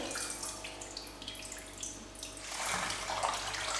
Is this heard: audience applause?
no